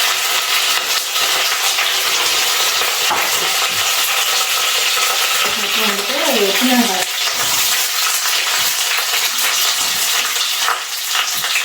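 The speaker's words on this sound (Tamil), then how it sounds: "இப்போ சாம்பார் தாளிச்சிக்கலாம். ஃபஸ்ட்டு கொஞ்சம் கடுகு, சோம்பு" Mustard seeds, fennel and curry leaves crackle and sizzle in hot oil while tempering pumpkin sambar, a steady loud frying hiss throughout with a brief burst of spluttering midway.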